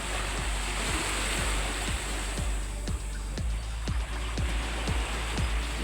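Sea waves wash steadily at the shore in a constant broad rush, with regular low thumps repeating about every half second throughout.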